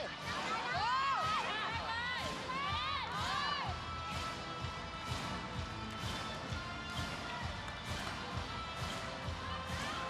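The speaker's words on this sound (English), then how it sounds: "They need to help cheer on their team." Fans at a women's Volleyball Nations League match between Thailand and Brazil cheer for Thailand, loud sustained crowd noise with repeated rhythmic bursts of shouting and clapping throughout.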